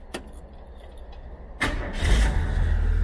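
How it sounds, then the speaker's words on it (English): A car engine cranks with a brief click first, then catches with a sudden burst and settles into a loud, rumbling idle close by. "We'll see if we can do the classic reach in the window and start."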